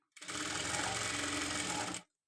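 A sewing machine stitches a blouse neckline in one steady run of close, even whirring that starts and stops cleanly within about two seconds.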